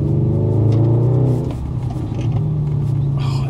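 Audi S5 engine while driving, a steady low drone that swells loudly early on, then eases back to a constant rumble with faint road noise.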